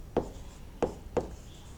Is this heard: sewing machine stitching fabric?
no